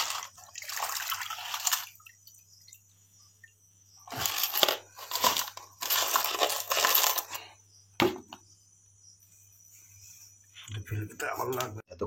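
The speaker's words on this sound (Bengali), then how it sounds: "এবার ভালো ভালো জল, আয়রন মুক্ত জল দিয়ে ধুয়ে নেবে।" Gold jewellery being rinsed in iron-free water after cleaning with soda and soapnut, giving splashing, dripping bursts and small metallic clinks in separate spells with quiet gaps between them.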